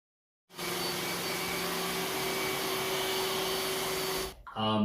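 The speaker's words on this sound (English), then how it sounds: "This is the most powerful robotic vacuum commercially available to the public." A Roomba s9 robotic vacuum cleaning carpet whirs steadily and loudly with a constant hum, then cuts off abruptly near the end.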